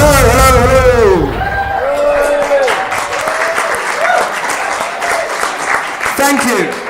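A comedy-night audience applauds at a club after a host's welcome, a dense wash of clapping that runs throughout while a voice speaks loudly over it at the start and again later.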